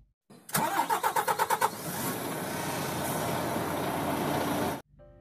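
A truck engine starting and pulling away, opening with a quick series of loud cranking pulses, then settling into a steady, close mid-pitched engine roar that cuts off abruptly.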